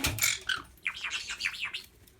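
A pet bird in a kitchen chirps near the microphone, a few sharp tweets followed by a quick run of rapidly sweeping whistled notes, with no talking over it.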